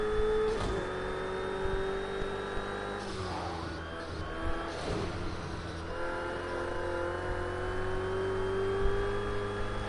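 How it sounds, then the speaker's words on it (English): Ferrari engine at Silverstone International in Project CARS 2, a steady whining drone with pitch climbing and dipping as it revs, with occasional brief mechanical clicks, fairly loud and alone. "We're driving a Ferrari, yeah?"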